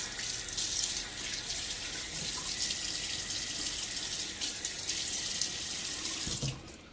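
Water runs steadily from a tap into a sink, a continuous close hiss that cuts off near the end.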